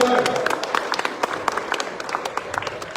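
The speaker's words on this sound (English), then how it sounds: "please have applause for yourself" Audience applause at a long Dhamma Chakra Pravartan Din gathering, a dense wash of clapping from a large crowd with sharper individual claps popping through, steady and fairly loud across the whole stretch.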